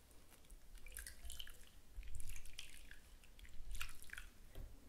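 Hands are washed under a small flow of water before a face is cleaned with a sponge: quiet, close drips, squishes and wet rubbing in uneven bursts.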